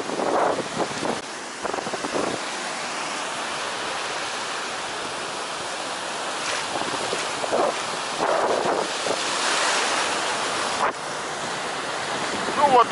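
Stormy sea surf crashing continuously with strong wind buffeting the microphone, a steady roar of waves that swells and falls, close and loud throughout.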